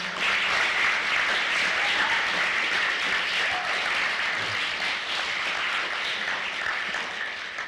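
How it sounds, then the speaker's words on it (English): Audience applause after a talk, a dense, steady wash of many hands clapping at fairly close range, sustained and loud throughout and fading slightly at the end. "if you guys could give a round of applause to my assistant there, Isaiah Connors."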